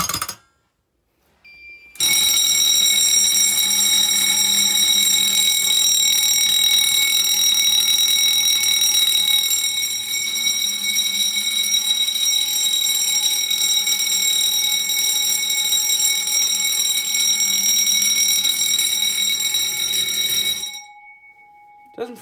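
An old fire alarm system sounds during a test: a loud, steady, piercing electronic tone with bright harmonics holds for about nineteen seconds, then cuts off abruptly.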